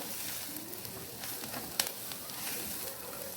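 Vegetables fry in a pan with a steady, fairly loud sizzle that carries through the whole stretch, broken by one sharp clink partway through.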